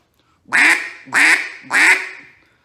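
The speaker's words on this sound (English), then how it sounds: "So here's just a couple quacks and just get what it sounds like." Three loud, evenly spaced duck-call quacks, each a nasal honk, sounded close with no other noise.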